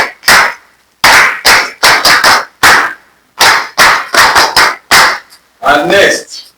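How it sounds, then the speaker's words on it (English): Students in a classroom clapping in short bursts, roughly a dozen loud, separate clusters of hand claps with brief silences between, close and sharp. "Clap for yourself."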